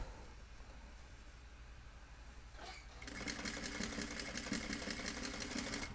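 A sewing machine stitches a jean hem: soft fabric handling at first, then the motor kicks in and runs at a steady, rapid whir with a dense, even rattle of stitches, close and continuous.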